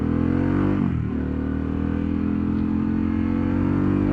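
A Harley-Davidson Pan America motorcycle with a Vance & Hines slip-on exhaust revs loudly up close with a deep, throaty exhaust note, dipping briefly before settling into a steady, rumbling idle.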